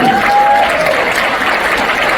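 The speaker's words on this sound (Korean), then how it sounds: "여러분 박수 보내주시죠." Audience applause fills a talk concert hall right after a host invites the crowd to clap for the owner of the FC Anyang football club, a dense, steady wash of many hands clapping at even loudness for about two seconds with no speech over it.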